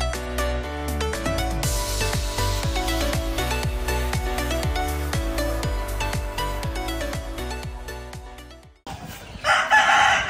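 Roosters and chickens at a large poultry farm in Bali, many of them young birds, crowing in dense overlapping calls for several seconds, then giving way to a rougher, noisier burst of flock sound near the end.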